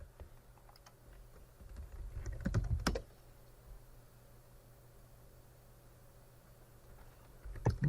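Quiet, quick clicks of keys typed on a computer keyboard, clustered in a short burst while shutting down a virtual machine, then soft background hiss with a few more taps.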